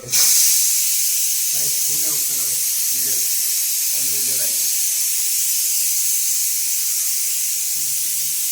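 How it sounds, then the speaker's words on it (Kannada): Pressure cooker on the stove cooking horse gram sambar, a steady loud hiss of escaping steam running throughout, with a few brief low voices or murmurs breaking in now and then. "ಗೈಸ್ ಇನ್ನು ಸ್ವಲ್ಪ ಟೈಮ್ಗೆ ವಿಜಲ್ ಕೂಗುತ್ತೆ"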